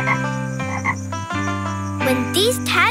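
Frogs croak loudly and close up in deep, buzzing pulses, with overlapping higher calls and chirps joining toward the end and no voices.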